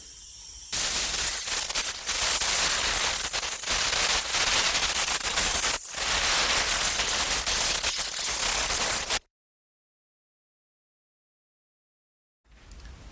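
Compressed air blasts dirt and debris off a 2012 Yard Machines lawn mower in a loud, close, hissing, rattling stream lasting several seconds, followed by silence and then a short final burst.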